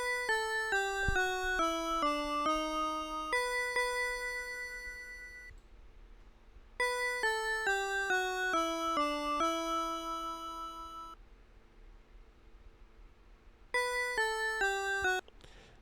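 Sega Genesis synthesized bell tones play a descending melodic phrase, clear and ringing, repeated three times with pauses as notes fade out.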